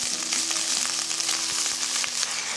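Beans, carrot and cabbage sauté in a pan with a steady, close sizzle, overlaid by soft clinks and scraping of stirring, with no talking.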